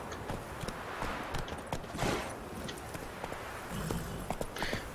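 Horse hooves clip-clopping in The Witcher 3 video game, a quiet, steady run of hoof clops over a soft ambient bed, with faint game sounds around them.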